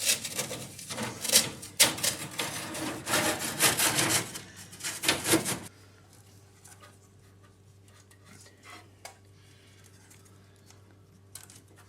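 Knife scraping an old gasket off a boiler's secondary chamber lid, heard as close, rapid rasping strokes for about five seconds, then giving way to a faint hum with occasional quiet scrapes.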